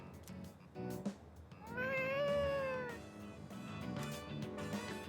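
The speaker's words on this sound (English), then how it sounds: "Was that A cat? cat's meow?" A cat meows once in the game Persona 3 Reload, a long, clear, rising-and-falling cry in the middle of a stretch of quiet in-game sound and soft clicks.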